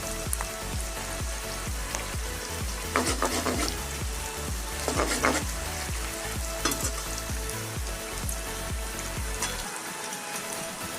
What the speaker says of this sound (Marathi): त्यातला निम्मा कांदा तळून घ्यायचा.